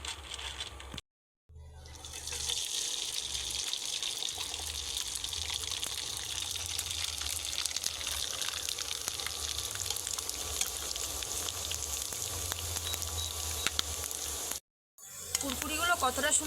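Hand-made potato kurkure sizzle and bubble in hot oil over a lowered flame, a steady broadband frying hiss that runs nearly continuously with two short breaks.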